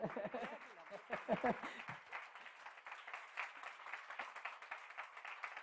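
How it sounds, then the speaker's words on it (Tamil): An audience claps at a 97th birthday celebration for Sri Sathya Sai in a Chennai hall, with fairly faint, scattered clapping throughout and a short burst of voices near the start. "ஒரு பெரிய கைத்தட்டல்"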